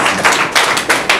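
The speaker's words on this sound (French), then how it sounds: "Applaudissez fort, vous avez mal à la main ou bien?" A morning gathering of members at a donation ceremony breaks into loud, close clapping that swells in four rhythmic bursts across a little over a second, with no voices over it.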